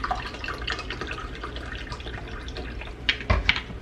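Water runs and trickles into a container for pickled onion brine, a soft, continuous splashing with brief drips, ending in a few louder splashes.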